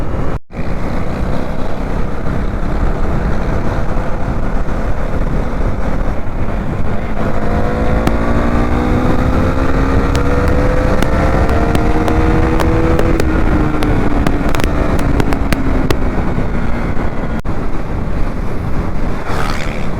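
A BS3 KTM Duke 390 motorcycle engine runs steadily and loudly with heavy wind rush, its pitch rising as it accelerates, then settling.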